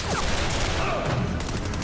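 Gunfire from a TV episode of the crime drama Reacher, a brief rapid burst of shots heard faintly and mixed under a busy soundtrack, with no clear talking over it.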